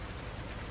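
Steady rain in Farming Simulator 19 on a Hawke's Bay farm, a dense, even hiss of falling water with no break, loud and close.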